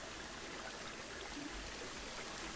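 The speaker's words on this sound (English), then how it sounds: "and you can see the waterfall there" Waterfall in a grizzly bear habitat in the Planet Zoo video game, a steady, faint rushing hiss of falling water with no breaks or other sounds.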